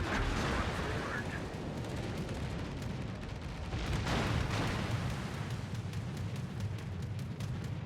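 Warship naval guns firing in the World of Warships video game: repeated booming salvos and rumbling gunfire in a continuous battle din, with voice callouts heard over it.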